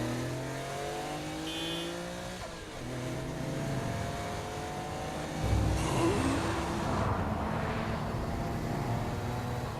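A car driven in the video game Saints Row: Gat out of Hell, its engine revving and shifting through rising gear tones, with tire noise and a louder surge midway, steady and close.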